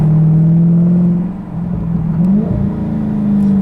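A loud 2016 Dodge Challenger R/T Scat Pack engine revs sharply with quick blips on downshifts, rumbling close by.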